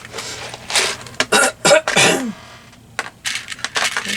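Several sharp coughs and throat-clearing bursts come in irregular clusters, close to the mic, with quiet pauses between them.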